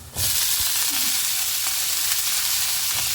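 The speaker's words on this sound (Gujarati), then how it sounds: "અહીંયા તેલ મૂકી દીધું છે એમાં લસણ નાખી દીધું છે ને હવે એમાં રાખી દઈએ આ બધું મિક્સ શાક" Mixed vegetables of carrot, beans, cauliflower and broccoli dropped into hot oil with garlic, bursting into a loud, steady sizzle that holds close and constant.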